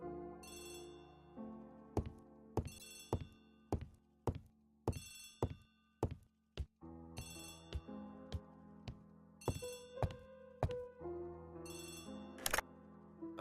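A telephone rings in the Agatha Christie ABC Murders video game, with repeated sharp bell-like bursts in a steady rhythm, loud and close over a soft musical background.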